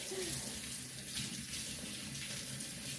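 Cold tap water runs in a steady, continuous stream during orchid repotting, a close, even wash of flowing water with no talk over it.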